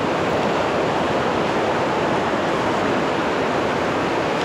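Pinder river, fed by the Pindari glacier, rushing through a mountain valley, a steady loud broadband roar of flowing water close by, unbroken and without talk.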